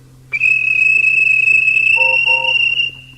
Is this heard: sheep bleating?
no